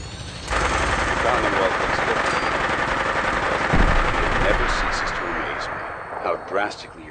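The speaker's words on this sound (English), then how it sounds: "we can see that minigun in front of you is loaded and ready to fire" A minigun fires from a helicopter during a Brotherhood of Steel airborne mission in Fallout 4, a loud sustained mechanical roar with rapid gunfire and rotor noise, while a voice talks over it.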